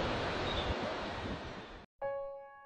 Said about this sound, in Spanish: Es impactante cómo se escuchan las olas, cómo se escucha el mar.